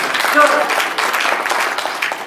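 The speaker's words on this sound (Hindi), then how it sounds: "ताली तो बजाइए।" Audience at a felicitation ceremony for a senior woman writer giving a burst of clapping, fairly loud and dense, with a voice audible briefly over it.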